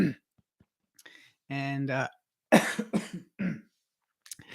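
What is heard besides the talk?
coughing fit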